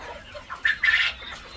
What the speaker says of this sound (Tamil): ஓஹோ, இதுதான் கினிக்கோழி.